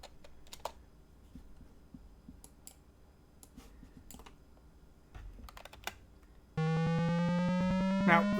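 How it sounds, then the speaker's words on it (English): Faint clicks and taps give way to a loud, steady electronic tone with buzzing harmonics from a Sinclair QL home computer, holding to the end. "We can hear that the Sinclair QL is making some noise"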